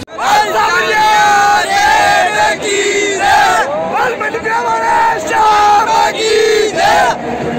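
A large, dense crowd shouts and cheers continuously at a Jal Jhulni Ekadashi chariot procession for Sanwariya Seth, with loud rising and falling waves of massed voices and chant-like cries close by.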